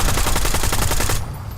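Rapid automatic gunfire in a video game firefight rattles out as a dense, loud burst of closely spaced shots for about a second, then cuts off abruptly, leaving a quieter background.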